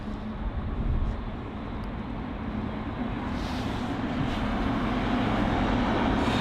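An Air China Boeing 777 airliner at London Heathrow gives off a broad, steady engine roar that swells gradually over several seconds, heard from an elevated spot near the airport with no talking.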